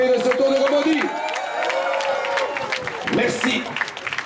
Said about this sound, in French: applaudissements pour Sander Armé, meilleur grimpeur